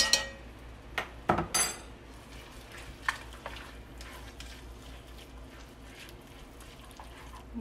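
Minced garlic stirred in a pan for collard greens and smothered pork chops, with a few sharp clinks of utensil on pan at the start, then soft, quiet scraping and sizzling.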